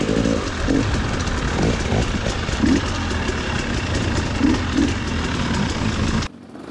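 A Husqvarna 300 TPI two-stroke enduro motorcycle at a hard enduro race, its engine running loud and close with a steady buzzing drone and a few revving surges before cutting off abruptly.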